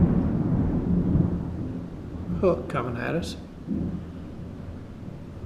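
Thunder rumbles low and continuously from a derecho lightning and wind storm over a lake campsite, with wind noise on the microphone. Someone speaks briefly over the rumble.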